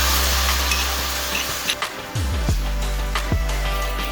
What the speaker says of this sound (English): Deglaze the pan with some dry red wine.